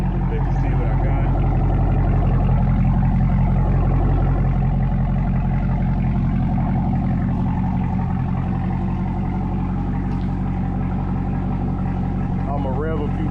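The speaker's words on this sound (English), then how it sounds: "I'm gonna rev a few times as well so you can hear it." Steady, loud idle and low rumble from a 2024 Cadillac CT5-V Blackwing fitted with a Corsa Xtreme valved 3.0 cat-back exhaust, close by and continuous, with a rise near the end.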